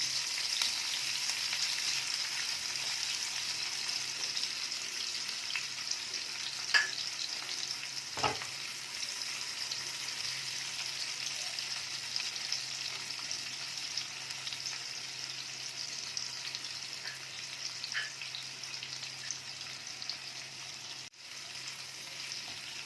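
Sliced whole onion frying in a pan, a continuous close sizzle with occasional stirring knocks and scrapes, steady and unbroken throughout.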